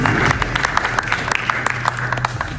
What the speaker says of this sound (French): Je vais vous demander d'applaudir s'il vous plaît pour son précieux soutien